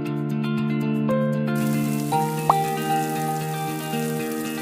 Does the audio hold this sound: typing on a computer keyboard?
no